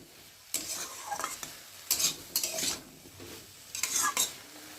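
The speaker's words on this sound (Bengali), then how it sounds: "দিয়ে ভালো করে নেড়ে চেড়ে নেব" Papaya shukto being stirred in a pan with turmeric powder: a utensil scrapes and clatters against the pan in several bursts over a steady frying sizzle, close and fairly loud.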